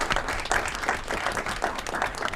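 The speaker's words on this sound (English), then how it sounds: "Let's give them all a round of applause as they make their way down." An audience at an Aurora committee of the whole meeting claps in a warm round of applause, steady and dense from many hands in a room, swelling in waves across the moment.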